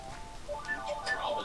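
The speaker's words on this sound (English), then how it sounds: "I've got a phone call coming in." An incoming call sets a phone ringing, its chirpy electronic ringtone of quick melodic beeps playing out clearly and fairly close.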